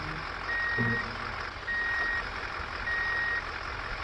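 A toy tow truck sounds three steady, evenly spaced reversing beeps over a constant low hum.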